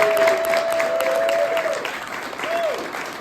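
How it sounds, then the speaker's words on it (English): Audience applause at an opening-night film screening, a steady burst of clapping from a crowd that fills the whole moment, with a voice talking over it. "So can we get a big round of applause for them real quick,"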